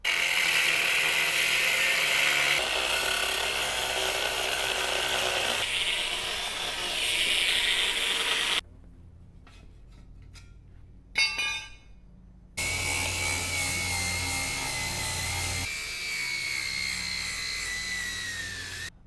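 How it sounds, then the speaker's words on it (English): Welds cut and ground off a bumper bracket on a 2019+ Mercedes Sprinter, a loud continuous whining grind with shifting pitch, broken by a quieter gap of clicks and rattles before the grinding resumes. "we're going to take a more clean approach and cut through the welds and grind them off so it looks like it was never there"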